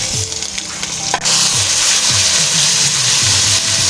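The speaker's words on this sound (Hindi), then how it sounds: "कीमे को भी अच्छी तरह से हम फ्राई करेंगे।" Minced beef keema sizzles loudly in hot oil in a pan, a steady close crackle with stirring scrapes and clatter of a spoon against the pan.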